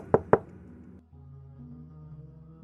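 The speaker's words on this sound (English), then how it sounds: "Knocking at the door." Two sharp, loud knocks on a door land in quick succession, then a quiet pause and a low, faint background hum.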